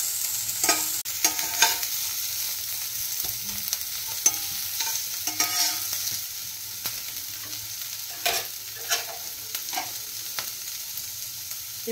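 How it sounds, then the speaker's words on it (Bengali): Onion and vegetables frying in a pan, a steady close sizzle with repeated scraping stirs breaking through at intervals, no voices. "পেঁয়াজটা ভেজে নেব, এরপরে আমি ভেজিটেবলস গুলো দেব।"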